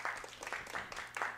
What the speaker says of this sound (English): Can we give a round of applause to our speaker?